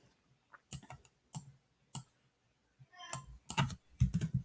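Mouse and keyboard clicks at a computer while building a Thinglink, scattered sharp ticks in short bursts, close and fairly quiet with silent gaps between.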